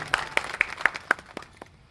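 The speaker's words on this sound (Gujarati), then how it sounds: "વિરેન્દ્રસિંહને આપણે તાળીઓના ગગડાટથી વધાવી લઈએ." Audience at a public development event in Rapar clapping in scattered, distinct claps, about seven sharp hits spaced evenly, moderately distant and thinning out toward the end.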